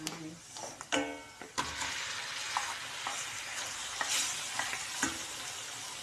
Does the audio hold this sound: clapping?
no